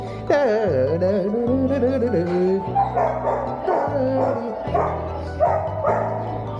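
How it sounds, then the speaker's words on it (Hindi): A husky in a kennel area lined with cages in Canada yelps and whines, with a drawn-out, howl-like opening cry followed by choppy vocal bursts, close and loud, mixed with a voice speaking nearby. "बहुत ही प्यारा कुत्ता है ये।"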